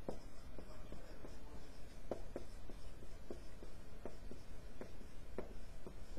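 A pen or pencil writes on paper in a quiet room, with soft irregular taps and scratchy strokes close to the microphone.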